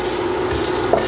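Beef fat sizzles and melts in a hot pan for osso buco, a steady, close, loud hiss with no voices over it.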